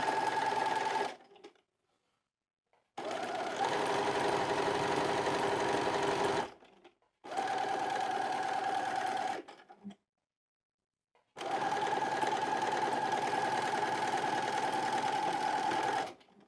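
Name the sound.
sewing machine stitching a side seam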